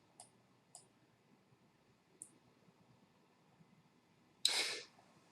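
A computer mouse clicks three times, soft and spaced apart, in a quiet room, followed by a short, louder burst of noise.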